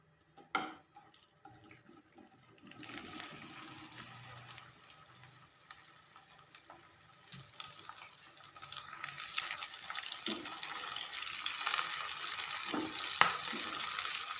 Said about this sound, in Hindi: तो हमारा कुकिंग ऑयल अच्छे से गर्म हो चुका है। अब इसमें मैं भिंडी ऐड करती हूँ।